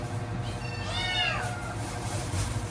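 Several pet cats meow insistently indoors at close range, one drawn-out rising and falling meow standing out over a steady background hum, with no talking.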